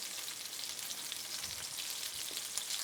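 Rice being stirred in a pot of liquid brought back up to a boil while cooking Cajun chicken, giving a steady, close sizzling and bubbling hiss throughout with faint scraping underneath and no talking.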